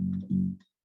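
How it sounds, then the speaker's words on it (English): A bass guitar plays a very low note, demonstrating the bass line of a Bollywood song: two short, deep, humming tones in quick succession, close and clear, then silence. "Bass guitar was always there."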